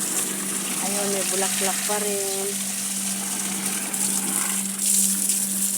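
Water spraying hard from a hose onto plants in a heat-damaged garden of flowers in cracked gallon containers, a steady broadband hiss running throughout with a voice talking over the first part.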